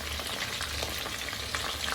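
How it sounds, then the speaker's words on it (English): Chicken pieces fry in hot oil in a pan, a close, steady crackling sizzle with dense pops throughout and no voices. "second batch of chicken is already frying"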